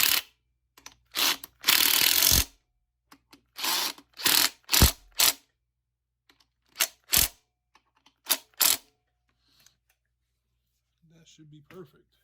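A socket ratchet wrench clicks in short bursts while an engine is being worked on, several separate runs of quick clicking separated by pauses, close and fairly loud, with faint handling noise near the end.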